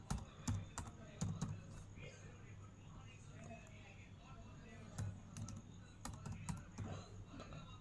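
Keys tapped on a computer keyboard in quick uneven bursts with short pauses, faint and close, over a low background hum, while a voice speaks softly.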